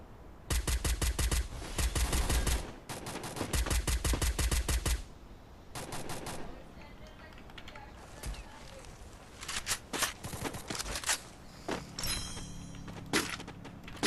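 Gunfire in the Free Fire video game, with loud rapid bursts of shots early on followed by scattered single cracks and clicks over quieter game noise.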